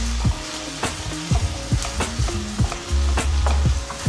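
Turkey meat sizzles in a pan while it is tossed, steady frying hiss broken by repeated clattering scrapes and thumps from the tossing, close and fairly loud with no voices.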